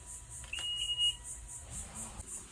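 A boat's ignition switching on sets off an electronic warning beep, a steady high tone lasting under a second, over a low background hum and faint periodic chirps.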